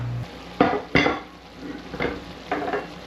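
Pepper steak sauce cooking down in a pan, with a soft sizzle under a few distinct stirring scrapes of a utensil against the pan, close and spaced at irregular intervals.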